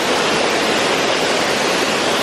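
A waterfall in Thailand pours in a dense, steady roar of rushing water, loud and close, with no voices over it.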